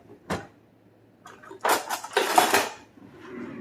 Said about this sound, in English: let me grab a spatula